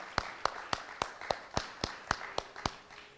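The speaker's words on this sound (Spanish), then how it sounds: "Un aplauso, por favor." A small church gathering gives a sparse round of applause, heard as about ten distinct, evenly spaced claps ringing out clearly in a quiet room.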